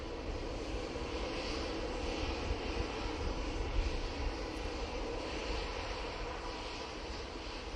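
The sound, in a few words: airplane at Manchester Airport, arriving from Copenhagen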